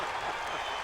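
A basketball crowd at the Nutter Center roars after a three-pointer, a brief, dense wash of cheering and applause with no single voice standing out.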